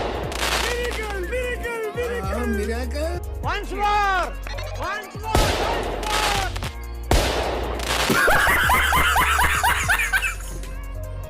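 Cartoon gunfire in a comic animated chase between a duck and a rabbit, bursts of rapid shots mixed with exaggerated voices, snickering and laughter, loud and busy throughout.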